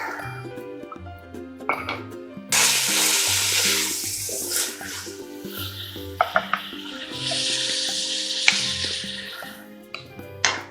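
Onion and garlic sauté in a pan for Bolognese, a loud sizzle rising as ingredients go in, with clinking utensils and pan knocks over background music.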